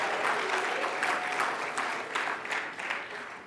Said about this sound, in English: Let's give Mr. Madden a round of applause again